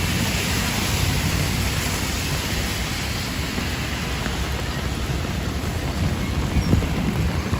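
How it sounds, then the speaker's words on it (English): Very heavy rain pours down on a Manhattan street at night, a dense, loud and constant hiss of downpour with no talking. "Very hard downpouring."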